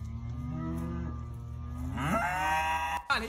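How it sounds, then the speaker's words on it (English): A cow moos loudly nearby, a long low call that rises into a strained, higher bellow before cutting off with a brief knock. "Whoa, did you hear that cow?"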